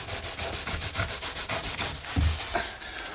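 A straightedge scrapes floated mortar off a wall along float strips in rapid, rhythmic gritty strokes, with a heavier thud about two thirds of the way through. The scraping is close and steady, with no talking.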